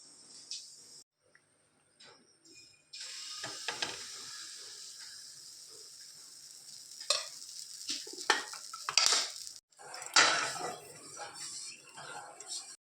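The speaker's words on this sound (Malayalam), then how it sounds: "ചൂടാകുമ്പോൾ നമുക്ക് മാവ് ഒഴിച്ചു കൊടുക്കാം" Rice batter for Kerala vellayappam poured into a hot pan, setting off a steady sizzle with stirring and scraping clatter, quieter at first and then swelling with sharp bursts near the end.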